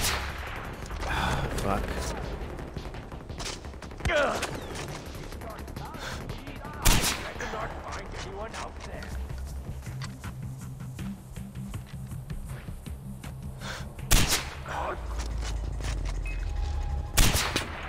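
Gunfire in the first-person shooter Far Cry 4, with bursts of automatic fire and several sharp, loud single shots spread across the scene, while someone talks over the shooting.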